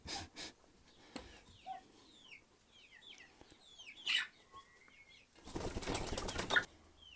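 Soft pecking taps of ducklings pecking at slippers and scattered high peeps, with a few louder rustling, fluttering bursts nearby.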